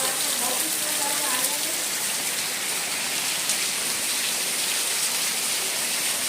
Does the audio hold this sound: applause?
no